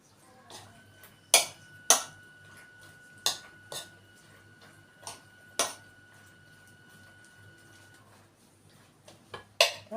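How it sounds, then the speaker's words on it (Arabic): Macaroni being stirred with béchamel in a Pyrex dish gives sharp, irregular clinks and scrapes of a utensil against glass, several distinct knocks spaced over a quiet kitchen background, close and fairly faint. "نقلب بقى المكرونه كده"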